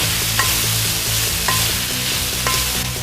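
Minced pork being stirred in a hot pan with a steady sizzle, a few distinct scraping strokes of the utensil sounding roughly once per second over continuous frying noise, close and fairly loud, with no talking.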